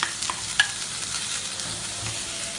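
Green beans stir-frying with onion in a pan, a constant soft sizzle broken by a couple of quick spatula clicks and scrapes, close and moderate.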